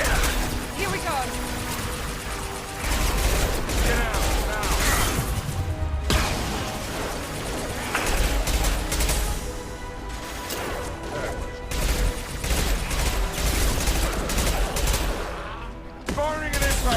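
Impact shots fire in a Mass Effect 2 firefight: loud, dense bursts of gunfire and crashing impacts repeat across the clip, with brief lulls between volleys and a voice speaking under the din.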